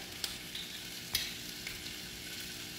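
Finely chopped ginger sizzling in hot ghee with cumin seeds, a soft, steady hiss with a few faint pops and crackles.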